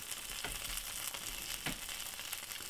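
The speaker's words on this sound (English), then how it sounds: "You can see the cheese is melting a little bit on the pan." A grilled cheese sandwich frying in a pan, giving a soft steady sizzle with a few faint scrapes, quiet and close, with no voices.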